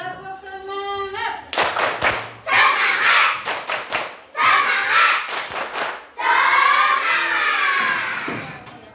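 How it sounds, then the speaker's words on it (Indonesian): A class of schoolchildren doing a rhythmic spirit clap, bursts of hand claps with shouted chanting in a steady pattern. A teacher speaks before it starts. "Yuk, tepuk semangat."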